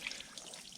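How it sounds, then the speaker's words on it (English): Water pours and trickles briefly over a part from a vintage Stanley No.4 hand plane during rinsing, a short, faint splash with no voices. "Give it a rinse."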